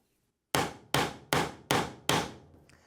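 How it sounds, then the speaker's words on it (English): After a short silence, five steady hammer strikes with a hammer block on a wooden balance board land in a regular rhythm, loud and near, with no voices. "you can also flip it over and hammer from the other side."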